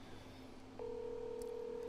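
A phone on speakerphone dials out, sending a single steady dialing tone that starts partway through and holds over faint background room noise.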